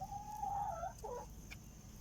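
A single chicken gives a drawn-out cluck followed by a short clucking burst, fairly close over a low background hum.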